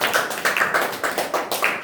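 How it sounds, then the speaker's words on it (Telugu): Hands clap in a steady, fairly quick rhythm at a church gathering, about a dozen sharp claps in under two seconds, close and clear with no talking. "చప్పట్లు కొట్టి"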